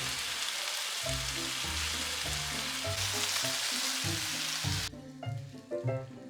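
Steady sizzling of food frying in a pan, a continuous crackle with occasional clinks, with quiet music-like tones running underneath throughout.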